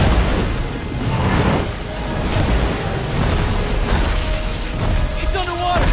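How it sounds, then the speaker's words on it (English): Bombs dropped during multiplayer combat in the game Scalebound, heard as dense, loud booming rumble under excited players' talk that runs through the whole stretch. "let's drop some bombs in this thing!"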